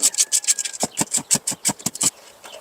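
Ratchet and socket loosening bolts on a 2.4 Nissan Frontier: a quick, even run of about a dozen raspy ratcheting clicks, close and crisp, then a brief pause and a few softer clicks, with no talking.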